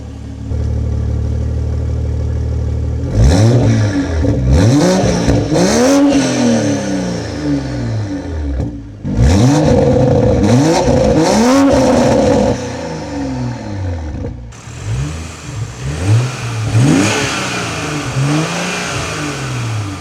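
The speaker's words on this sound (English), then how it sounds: "I think it's now a great time to take it on the road and see what the Supra's like to drive" A 2020 Toyota Supra A90 revs loudly on the road, its engine climbing and dropping in repeated sweeping pulls with gear changes, close and dominant throughout with no talking.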